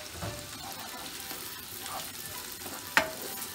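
Chopped onion sizzles steadily in hot oil, a soft crackling hiss with a sharp clink of a utensil near the end.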